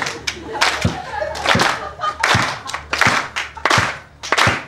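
Audience at a comedy show during a cannabis festival street event claps in rhythmic bursts on cue, loud sharp hand claps in uneven rounds with voices mixed in between.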